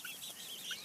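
Chickens in a mobile coop set out on grass pasture, with soft, faint clucking and chatter in short bursts over a steady outdoor background.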